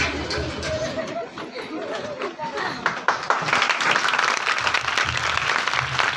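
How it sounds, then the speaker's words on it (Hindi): An audience applauds child performers after a school play at Vidya Shri Vidyalaya, clapping building from scattered to dense and louder, with crowd chatter and voices mixed in throughout. "जोरदार तालियों से हमारे भाई कलाकारों का अभिनंदन करें।"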